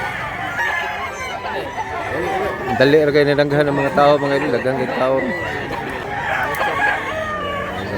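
A rooster crows among many chickens at Mantalungon, Barili, a drawn-out call in the middle of the stretch, close by and partly under steady conversation.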